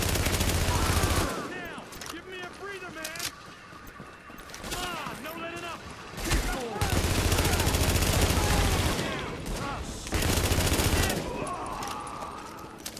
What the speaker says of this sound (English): Civilian, you just heard gunfire.